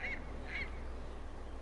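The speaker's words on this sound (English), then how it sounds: "It sounds like a seagull." A creature in Dragon Age Inquisition gives two short, nasal, honking calls like a seagull, about half a second apart, over a steady low background hum.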